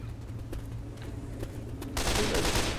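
Gunfire in Left 4 Dead: a few faint distant shots over a steady low hum, then a louder sustained burst of rapid fire in the last second.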